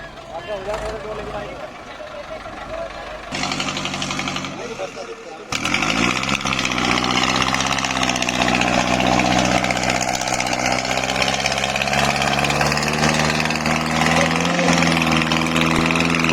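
New Holland 5620 4x4 tractor engine running steadily at a loud, close idle and then revving higher, with a brief mechanical clunk, and voices talking over it early on.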